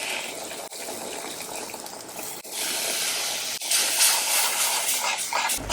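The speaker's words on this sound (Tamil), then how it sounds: "சுடு தண்ணி ஊற்றுவோம்." Hot water pours into a mushroom masala cooking in a pan as a continuous, steady rushing hiss. It is near and even throughout and swells slightly louder toward the end.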